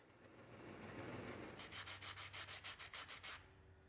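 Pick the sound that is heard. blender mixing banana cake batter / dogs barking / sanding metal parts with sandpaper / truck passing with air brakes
sanding metal parts with sandpaper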